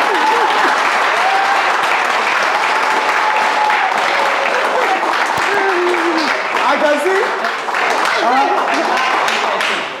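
Loud, dense applause from a crowd, steady for about ten seconds, with voices and cheering mixed into the clapping.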